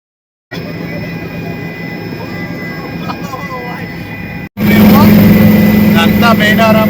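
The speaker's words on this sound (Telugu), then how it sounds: "మేము హెలికాప్టర్ స్టార్ట్ అవుతుంది" A helicopter at the Medaram jatara starts up for takeoff: a steady droning whine with a tonal hum, then a brief cut before the engine returns much louder and harsher, close by and continuous.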